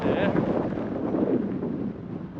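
Strong storm wind buffets the rocky coast at Xghajra, Malta, under sea spray, a loud, steady roar that rumbles against the microphone throughout with no break.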